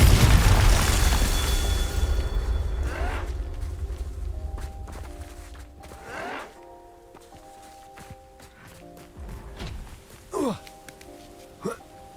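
A Confringo spell blast in Hogwarts Legacy opens with a loud rushing burst that trails off over a few seconds, followed by scattered sharp whooshes and pops over quiet background music.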